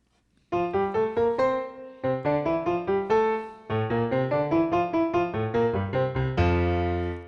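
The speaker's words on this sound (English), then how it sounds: "I'm going to play the piano because I don't have a harp handy." Solo piano plays a gentle Christmas carol introduction of broken chords and melody notes, pausing briefly between phrases, clear and close, with no voices.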